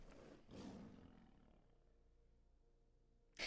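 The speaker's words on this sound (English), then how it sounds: "Why does that make it sound like a lion?" A lion-like roar effect in a video game draft: a deep, rough growl swells early and fades into a long low rumble, faint overall, ending with a sudden bright burst.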